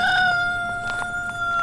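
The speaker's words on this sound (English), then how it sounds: "Chickens here and cockerel." Farm chickens and a cockerel sound close and loud, with the cockerel's clear crowing over clucking hens in an open rural setting.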